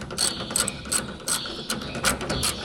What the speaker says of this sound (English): it's as simple as just a half-inch wrench or socket